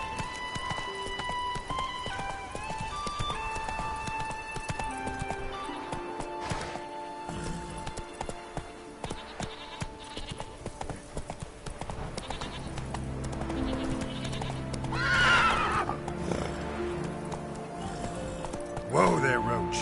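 Roach, the horse in The Witcher 3, trots along with a steady clip-clop of hooves under in-game voices and ambient sound, with a brief snort or whinny near the end.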